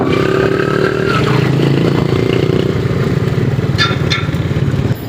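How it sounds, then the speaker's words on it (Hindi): A modified heavy motorcycle engine revs steadily and loudly in a busy street setting, its deep throbbing note holding for about five seconds with faint background traffic and voices. "सही हैवी बाइक बनाई हुई है, कोई चलान ही ना करे।"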